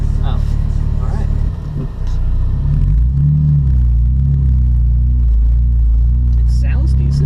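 A BMW 325Ci fitted with an aftermarket exhaust idles with a deep, steady low rumble close by, swelling slightly partway through, while people talk over it.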